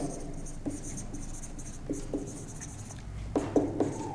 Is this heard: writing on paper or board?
yes